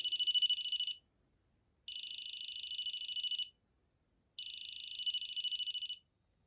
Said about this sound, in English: the lights around the edge of the car flash and the buzzer sound